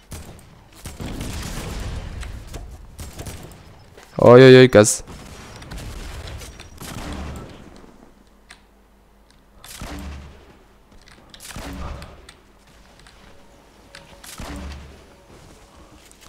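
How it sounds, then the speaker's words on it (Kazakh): Gunfire in the Fortnite video game: a loud rapid burst of shots up close, then scattered single and distant shots, with players talking in between. "Ана жақтан біреу атысып жатыр."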